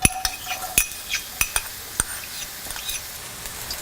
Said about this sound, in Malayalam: ചൂടായ പാനിലോട്ട് എടുത്തു വച്ചിരിക്കുന്ന 1 ടേബിൾ സ്പൂൺ സെസമി ഓയിൽ ഒഴിച്ച് ചൂടായി കഴിയുമ്പോൾ ഇതിലോട്ട് വൈറ്റ് സ്പ്രിംഗ് അണിയൻസ്